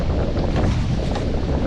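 Strong, steady wind roars into the microphone beside water on a dam shore during a summer fishing trip in the north, with broadband buffeting throughout and no voices.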